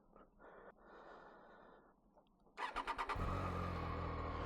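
Quiet scraping and breathing sounds, then a Triumph Daytona 660 motorcycle engine cranks on a cold start with a few quick turnovers and catches, settling into a loud, close running rumble.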